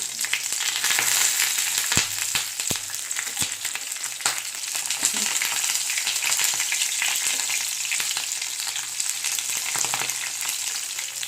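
Fish egg paturi wrapped in banana leaf fries in hot oil, giving a loud, continuous sizzle scattered with sharp pops and crackles, heard alone without speech.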